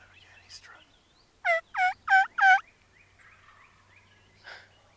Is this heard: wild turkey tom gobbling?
yes